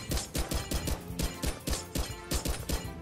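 Guns firing and glass breaking in Minecraft with a gun mod, a rapid series of sharp, evenly spaced bursts close up, each cracking impact quickly following the last.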